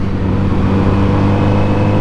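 Car traffic on a country road passes a moving Kawasaki Z900RS motorcycle, a loud, steady drone of engine and wind noise with a continuous low hum throughout.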